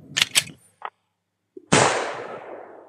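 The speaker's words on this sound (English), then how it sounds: "Is that a gunshot?" A single gunshot cracks loudly and sharply, decaying quickly, after a few short voice fragments and a brief silence.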